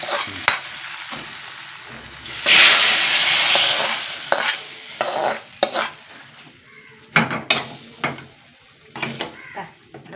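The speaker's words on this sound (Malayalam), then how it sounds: "കറിവേപ്പില ഇട്ട് കൊടുത്തിട്ടുണ്ട് നമ്മുടെ താളിപ്പ് ഒഴിച്ച് കൊടുക്കട്ടെ" Hot tempering with curry leaves hits a beetroot curry, a loud burst of sizzling near the start that fades to a steady crackle, with stirring and utensil clinks on a pot following.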